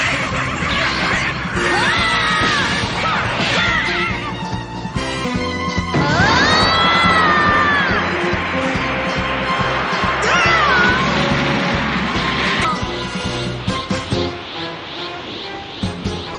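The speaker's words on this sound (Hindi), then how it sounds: "उसकी एक चीख ने उन सबको हवा में उड़ा दिया।" A powerful, sustained scream from a character in a Dragon Ball-style cartoon, loud and close over a busy bed of crashing effects, blasts and music lasting many seconds.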